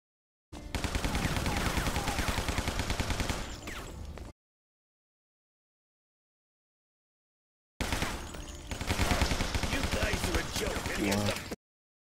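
Video game gunfire comes in two sustained bursts of rapid, loud shots, each lasting about four seconds, with a stretch of silence between them.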